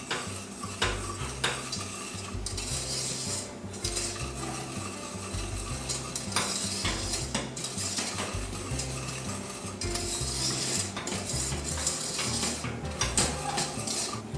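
Batter of pale whipped egg yolks and sifted flour for strawberry tartlets is stirred steadily in a bowl, with continuous close scraping and clinking of utensil against the bowl and no talk.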